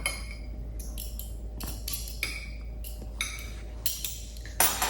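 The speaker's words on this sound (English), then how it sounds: "So I'm just gonna shred these up." Tender cooked chicken for tacos is pulled apart with metal utensils against a dish, making a string of light clinks and scrapes with soft pauses between them.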